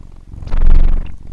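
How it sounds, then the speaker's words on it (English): A cat purrs right up against the microphone, a loud, close, rumbling purr that swells in the middle of the short burst and then eases off. "As your cat's playing with your mic."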